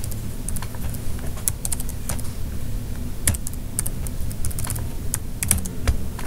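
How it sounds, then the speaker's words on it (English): Clicking keystrokes on a computer keyboard during a live stream, rapid and irregular, with a few sharper key hits among steady low background noise and no talk. "No, it's a stupid keyboard."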